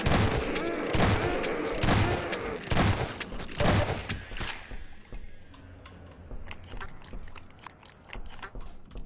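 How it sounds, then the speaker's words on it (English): A shotgun in the video game Half-Life 2 fires several loud, booming blasts in quick succession, followed by quieter clicks and clattering as the shooting stops. "What I like in a game, a good shotgun."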